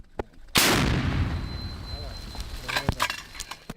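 An artillery gun fires in Avdiivka, one sudden loud boom whose rumble trails off over a few seconds. Faint clinks and knocks follow, and a voice can be heard around the shot.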